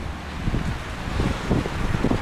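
Cold winter wind blowing along the seafront in Alanya, a steady rough gusting rush across the whole clip with low rumbling buffets, fairly close and moderately loud, with no voices.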